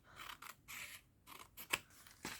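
Scissors cut through paper for a stuffed paper bag journal in several short snipping strokes with brief pauses, close and quiet, and no one speaks.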